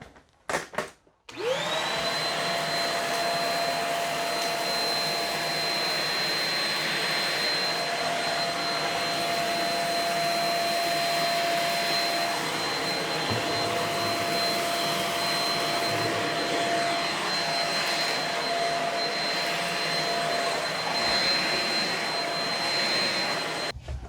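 Shark Rocket HV301 upright vacuum running on its bare-floor setting across hardwood, a loud steady motor whine with a high pitched tone holding nearly constant throughout, close up and alone after a brief start.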